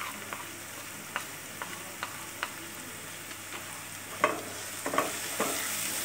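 Potatoes frying with red Kashmiri chili powder for chilli potato are stirred in a pan over a low, constant sizzle. Spaced scrapes of the spoon get louder and closer together near the end, with no speech.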